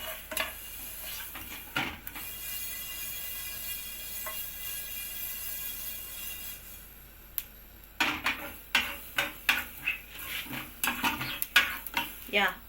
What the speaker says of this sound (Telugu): ఆవాలు వేగేటప్పుడు ఇవి పట్టపట్ట పేలుతాయి కదా, సో జాగ్రత్తగా ఫ్రై చేసుకోండి.